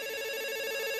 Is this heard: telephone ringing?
yes